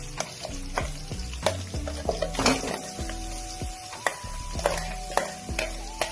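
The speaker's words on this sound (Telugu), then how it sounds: "ఈ మసాలా బాగా వేగాల" Ground masala spices frying in hot oil in a pan, a steady close sizzle punctuated by repeated sharp scrapes and taps of a spoon stirring against the metal, with no talking.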